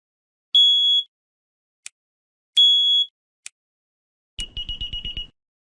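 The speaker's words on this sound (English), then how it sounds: "the alarm's going off." An electronic alarm sounds in the video game Nobodies: Silent Blood: two sustained high beeps with sharp clicks between, followed by a rapid pulsing burst of shorter tones, loud and isolated against silence.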